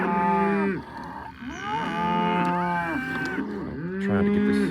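Cattle being moved on pasture in a stock-density grazing setup, several loud overlapping moos from more than one animal, long drawn-out calls following one another nearly continuously, close by, with no talking.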